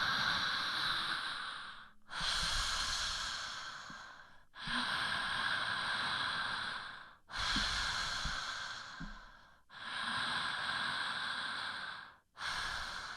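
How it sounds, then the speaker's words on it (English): Open-mouth circular connected breathing, with inhale and exhale linked in a continuous loop. Long, airy breaths come close to the mic and rise and fall in a steady rhythm of about five cycles, each separated by only a brief dip. "You're just breathing through an open mouth."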